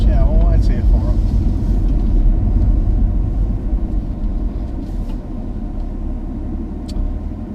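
Vehicles pass on a narrow cliffside road, a steady rumbling engine and tyre drone that fades gradually as they go by, with a voice speaking briefly at the start.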